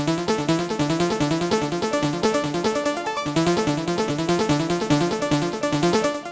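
A bright, distorted synth arpeggio cycles rapidly in a steady repeating pattern, loud and reverberant, with no voices.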